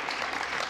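A brief burst of audience applause at a debate, a steady wash of clapping from many hands heard alone.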